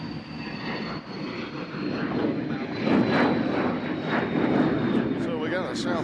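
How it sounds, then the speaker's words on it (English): A Learjet takes off at Nashville International Airport, its steady jet roar building and holding loud and continuous, with a thin whine on top and faint voices in the background. "Other non-availability, Learjet took off."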